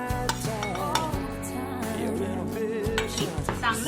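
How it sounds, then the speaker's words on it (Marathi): Chopped onion, grated coconut and broken papad being stirred together in a bowl for a Maharashtrian mirchi papad koshimbir, a steady run of clinks and scraping against the bowl with no talking. "चांगलं मिक्स करायचं."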